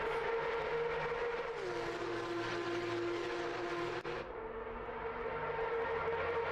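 Race car engines roar continuously at Bathurst in a sim racing game, a loud steady drone with shifting pitch as the cars climb the mountain, with no talk over it.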